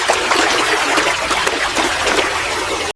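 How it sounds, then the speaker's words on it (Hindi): Tamarind water poured over pani puri, a steady close splashing trickle of liquid running for about three seconds before stopping abruptly. "अब इमली वाला पानी भी डाल दो।"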